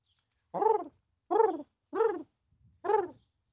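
Pigeon cooing, four evenly spaced soft hooting coos close by with no other sounds.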